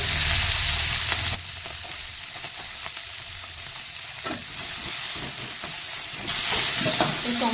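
Onion and garlic frying in a pan, a close continuous sizzle that surges loud, softens while the pieces are stirred with a few utensil scrapes, then swells again.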